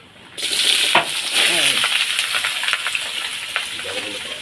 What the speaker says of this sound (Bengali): আলুটা একটু ভেজে নেব